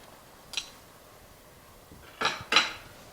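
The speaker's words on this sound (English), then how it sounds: "Give that another gentle stir" Spoon clinks against a pot as Ofe Nsala white soup is stirred, a few soft scrapes followed by two sharper metallic knocks near the end, close and fairly quiet with no talking.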